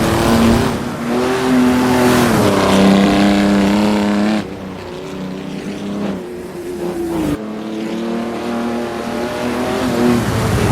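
A Silver Arrows race car lapping the Battenberg circuit roars up through the revs, briefly drops as it shifts up into third, then climbs again, loud and close throughout.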